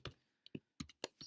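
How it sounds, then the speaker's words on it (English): Keys on a computer keyboard are pressed while a password is entered, a few separate clicks and taps spread over a second, close by and fairly quiet, with no talking. "So I just type in a password for this."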